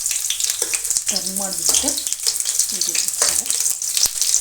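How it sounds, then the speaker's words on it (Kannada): Bitter gourd frying in oil over a medium flame gives a steady, dense sizzle with some stirring. Someone speaks briefly over it. "ಇನ್ನು ಸ್ವಲ್ಪ ಚೆನ್ನಾಗಿ ಮೀಡಿಯಮ್ ಉರಿನಲ್ಲಿ ಫ್ರೈ ಮಾಡೋಣ."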